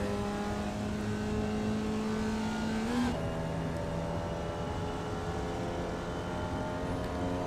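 Formula Vee race car engine in the iRacing sim at Rudskogen, held at full throttle: a loud, steady buzzing drone that climbs in pitch, then jumps to a lower note at a gear change and keeps rising.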